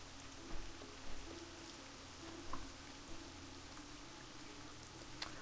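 Steady soft rain hiss, like rainfall on a surface in a game world, continuous and fairly faint with a few slightly louder patters and no voices.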